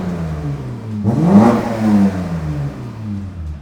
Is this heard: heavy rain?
no